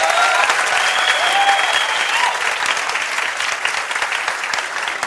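A classroom audience at a coaching centre claps loudly and continuously, a dense, sustained burst of applause that fills the room with some voices faintly mixed in.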